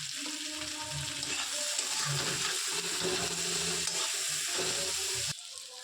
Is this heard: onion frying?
yes